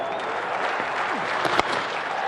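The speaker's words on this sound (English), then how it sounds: "Crowd going wild out there in front of the Barry Shepherd gates here at the Wacker" A cricket crowd at the WACA cheers and applauds a six during an Australia versus Zimbabwe match, a dense, sustained roar of clapping and shouting heard from a distance, with one brief louder burst.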